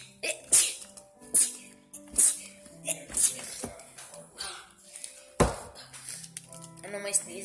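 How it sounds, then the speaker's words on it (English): Several sharp sneezes repeat in quick bursts, close and loud, with faint clinks of dishes and soft talking between them. "My sneezes are really okay."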